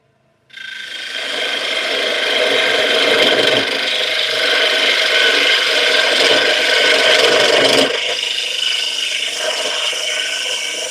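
A bowl gouge cuts wood spinning on a lathe, producing a steady, loud rasping scrape. It holds for about ten seconds with one short break, and no one speaks.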